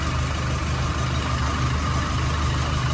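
A Nissan Navara pickup truck's diesel engine idles steadily at close range, a constant low throbbing rumble with no voices.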